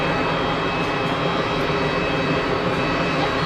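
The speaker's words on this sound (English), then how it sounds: "That one, EasyJet Switzerland, easily identifiable because the aircraft is on the Swiss register with the Hotel Bravo prefix." An EasyJet Switzerland Airbus A320ceo jet at Geneva Airport, a steady broad engine roar that stays loud and constant throughout with no talking.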